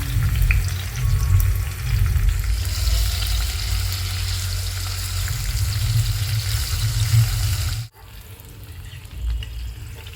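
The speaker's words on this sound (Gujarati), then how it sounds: "તેલ ગરમ થાય એટલે કાપેલા કેપ્સિકમ નાખી દેવાના અને તેને સાતળવાના" Chopped capsicum sautés in hot oil in a pan for a paneer khurchan, making a loud, continuous close sizzle that stops abruptly near the end and leaves quieter background noise.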